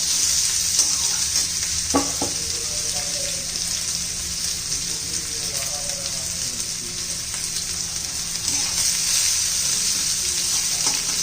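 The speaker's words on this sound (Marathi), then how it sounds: "लगेच कांदा घालायचा आहे कांद्याचा चांगला कच्चेपणा जाईपर्यंत आपण परतून घेणार आहोत" Chopped onions with coriander sautéing in a pan for rajma masala, a steady broad sizzle running throughout with a couple of sharp spoon clacks and scraping stirs, loud and close.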